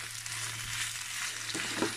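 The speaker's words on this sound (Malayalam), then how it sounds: "ഈ ഒരു സ്റ്റേജിൽ ഒരു വലിയ ഉള്ളി നീളത്തിൽ അരിഞ്ഞത് ചേർത്ത് കൊടുക്കണം." Lengthwise-sliced large onion frying in a pan for a beef roast, a steady close crackle and hiss that continues throughout, with a few soft scraping stirs near the end.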